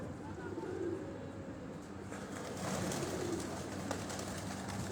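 Pigeons cooing on a rooftop in Rawalpindi in the evening, soft repeated low coos running steadily through the clip against a mild background hum, with no talking.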